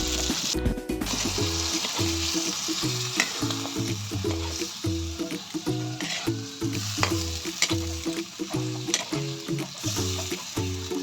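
Soy sauce hits a pan of frog adobo with lemongrass and sizzles steadily, the frying hiss running continuously while rhythmic stirring clatters repeat about every second, close and alone without speech.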